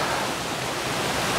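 Two waterfalls pouring in a wooded spot, heard as a steady, dense broadband rush of falling water with no breaks, close and constant throughout.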